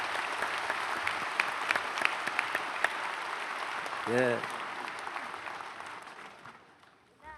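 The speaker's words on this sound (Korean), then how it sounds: "헝가리에서 오신 지도자들에게 박수하겠습니다" A church congregation at a special dawn prayer gathering applauds leaders visiting from Hungary, with dense steady clapping for several seconds that fades toward the end, and a brief voice partway through.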